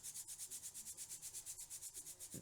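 Hard Delft casting sand is grated into a mold in fast, regular scraping strokes, about eight per second, close and quiet with no voices.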